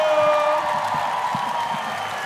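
Concert crowd at Paladozza arena in Bologna applauding and cheering for the band's tour manager after a live song, a dense, steady roar of many hands and voices filling the hall.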